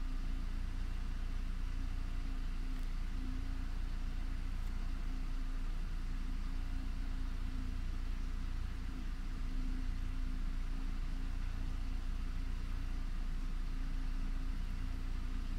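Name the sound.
VW Passat B5 1.6 MPI petrol engine idling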